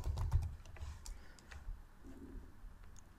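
Keystrokes on a computer keyboard while C++ code for averaging five numbers is entered, a quick, fairly close run of clicks that is busiest at the start and then thins out.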